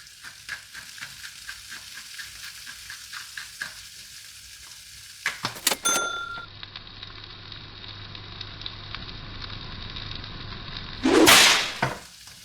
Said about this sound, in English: While the fish is frying up